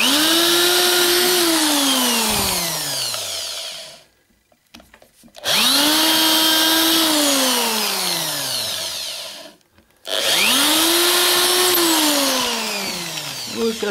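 Drill boring holes in plywood for exterior house facade decor, heard as three long, loud whining bursts that wind up, hold and wind down, separated by short pauses.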